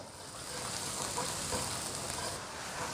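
Chili bean paste and spices with dry green Sichuan peppercorns stir-frying in hot oil over high heat, a dense steady sizzle close up with no talking.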